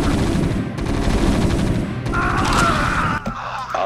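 Rapid bursts of gunfire from gun turrets in the video game StarCraft Remastered rattle loudly and densely, overlapping shots and explosive cracks with game effects layered on top.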